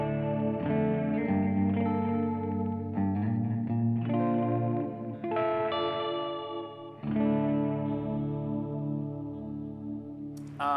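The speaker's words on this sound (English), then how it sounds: "Again, we've got the Brendan method here. All bass, all mid, all treble. And we're gonna start off with the clean tone." Clean-toned electric guitar played through a Blackstar Dept. 10 Dual Distortion valve pedal with bass, mid and treble all up, ringing chords and picked notes with sustained, chorus-like shimmer, played alone.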